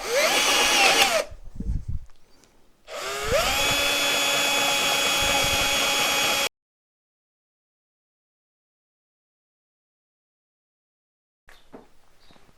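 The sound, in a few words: drill re-drilling a hole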